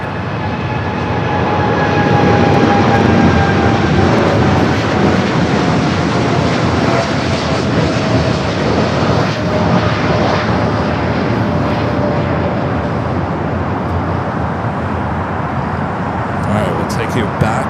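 A heavy jet airliner lands on runway 25 left at LAX, its broad engine roar and high turbine whine sustained and gradually lowering in pitch, heard outdoors at moderate distance with talk over it.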